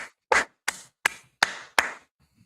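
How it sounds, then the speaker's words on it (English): Five sharp, separate hand claps struck close into a microphone, evenly spaced and loud against silence, each with a quick crisp decay. "Just clap right into that microphone"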